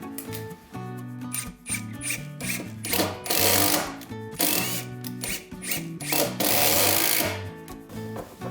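Power drill driving long screws into a wooden plank during a carpentry renovation of an entrance step, loud whirring bursts rising in pitch with short gaps between them.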